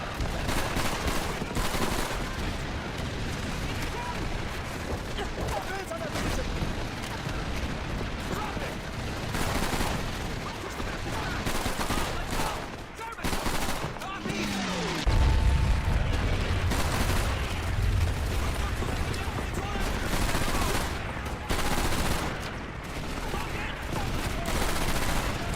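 Heavy, hard-recoiling gunfire in Call of Duty 3, loud dense bursts of shots and fusillade running throughout, with a deep low boom swelling near the middle and continuing under the firing.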